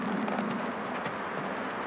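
Horse hooves clip-clopping during bitless winter training, a quick continuous rhythm of hoofbeats heard close and steady over the whole stretch, with no voices.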